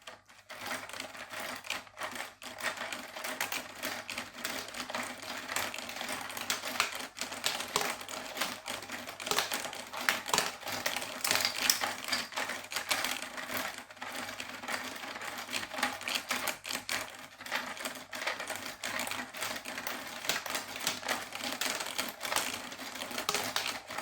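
Marble Mania Crankster marble machine with its elevator running, giving a steady, dense clatter of small plastic clicks and rattles that continues for the whole stretch at moderate level, with no talking.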